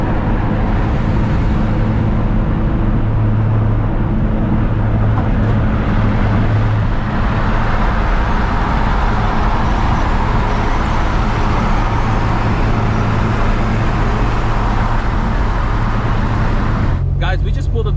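A Honda car drives along the road with a steady, fairly loud engine and tyre rumble heard from inside. The rumble runs continuously for the whole stretch, with a brief change in the noise right at the end.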